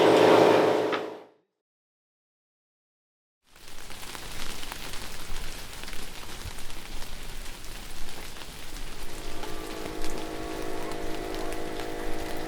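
Steady rain patters on surfaces at a motorcycle race final after a short burst of sound and a few seconds of silence, continuing as a dense, even hiss at moderate level.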